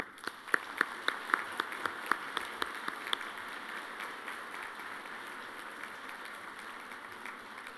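Audience applause for a guest speaker, the vice president of Uruguay, at a marketing association luncheon; sharp individual claps open a steady wash of clapping that carries through the whole stretch at moderate level, with no talk.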